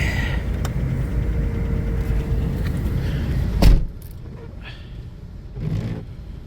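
A car engine fires and settles into an idle, steady rumble followed by a sharp knock and a quieter, even running hum; faint jangling sits early on.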